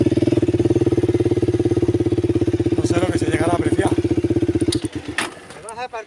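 A UM Sclamber classic motorcycle engine idles with a steady, rapid throbbing rhythm, close by, then revs and fades as a voice briefly talks over it.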